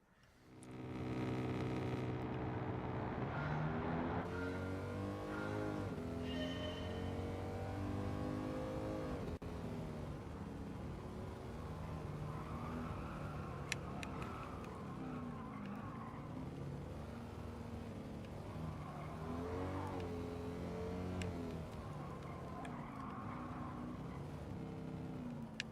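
A race car in Gran Turismo 7 revs hard through turns, its engine climbing and dropping in pitch while tires squeal and skid as the handbrake swings it around corners, loud and continuous.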